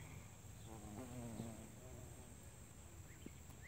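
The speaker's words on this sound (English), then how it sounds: "it's covered in bees of all sizes" Many bees of all sizes, including carpenter bees and bumblebees, buzz steadily around anise hyssop flowers outdoors, a soft continuous hum with a few louder passes close by.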